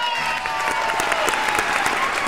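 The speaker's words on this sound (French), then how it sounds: "On vous assure que tous ces applaudissements étaient vrais." Steady applause from a crowd at the E3 2014 EA press conference, dense clapping with a few faint cheers mixed in, sustained throughout.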